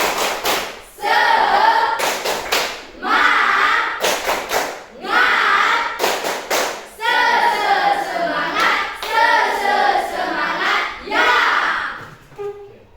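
A school class performs a rhythmic spirit clap, bursts of sharp group claps and thumps in a patterned sequence broken by short pauses, with children's voices chanting along.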